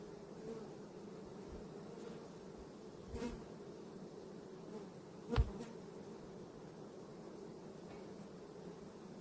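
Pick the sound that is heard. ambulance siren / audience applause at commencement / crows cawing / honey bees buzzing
honey bees buzzing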